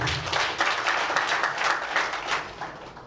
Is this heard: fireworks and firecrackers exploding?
no